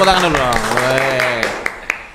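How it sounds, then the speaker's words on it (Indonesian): A school audience claps for a guest at a student organisation talk show, scattered applause going on under a speaking voice, with a few sharper claps standing out near the end. "Waduh, tepuk tangan dulu dong."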